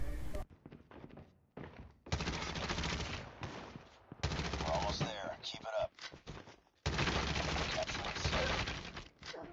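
Rapid bursts of submachine gun fire from Call of Duty Mobile, the AKS, loud and close, in several sustained strings separated by short pauses, with game effects mixed in.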